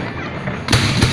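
Fireworks bursting outdoors in a sudden loud thumping volley, two heavy booms close together after a stretch of crowd murmur and a voice.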